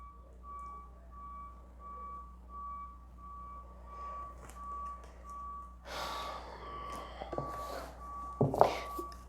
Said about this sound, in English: If it sounds like a truck that's backing up.